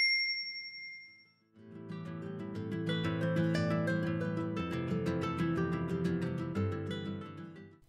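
A short, bright notification bell chime rings alone at the start and fades away, then gives way to steady background music that carries on to the end.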